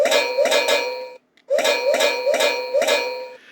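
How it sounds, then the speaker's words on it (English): Hit sound effect from a 1/16 scale full-metal Panzer III Afrika Korps RC tank by Mato: a repeating electronic ringing tone in steady pulses, with one short gap partway through. "that's the sound effect when it gets hit by another round"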